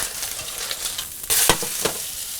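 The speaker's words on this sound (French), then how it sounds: "Quand les bords du poisson commencent à être cuits comme ça," Fillets of perch and féra from Lake Geneva frying in a pan make a steady close sizzle, with a brief louder burst of crackle partway through as the fish is moved or turned, and no voices.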